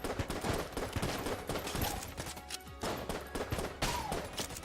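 Rapid video-game gunfire from a gun in Enter the Gungeon, dense bursts of shots with scattered impacts running almost continuously throughout, moderately loud, with no voices.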